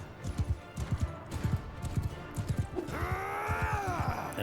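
Hooves clip-clop in a steady gallop in the Mount & Blade II Bannerlord battle game, followed by a loud, clear horse neigh with rising and falling whinny near the end.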